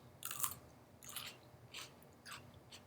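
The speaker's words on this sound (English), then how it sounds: "This is a nice Armenian or Persian cucumber, and you can hear the crunch" Crisp crunches of biting into a fresh Armenian or Persian cucumber, four distinct bites spaced about half a second apart, close and fairly quiet with no talking.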